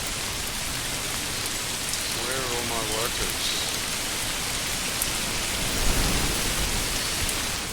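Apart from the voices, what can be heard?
rain falling in video game Manor Lords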